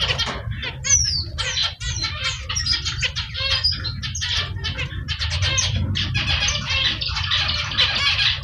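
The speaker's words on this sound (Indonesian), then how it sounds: "Ini adalah anakan zebra finch yang difosterkan ke Emprit Jepang." Zebra finch chicks fostered by a Japanese munia chirp in a busy, continuous chorus of close, high-pitched calls over a low background hum.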